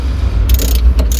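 A wrench loosening the negative battery terminal on a Jaguar XE, a few quick close ratcheting clicks in short bursts over a low background hum.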